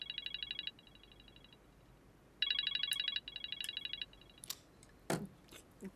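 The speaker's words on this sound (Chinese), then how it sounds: "帅哥哥，你为什么不接电话啊？" A phone rings in a drama scene: a bright electronic trilling ringtone in two repeated bursts with short gaps, followed by a few faint clicks and knocks in a quiet room.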